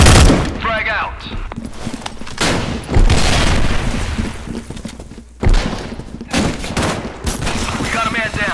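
A grenade explodes and guns fire in a video game battle. Loud booms and crackling bursts of gunfire follow one another, with brief voices heard between them.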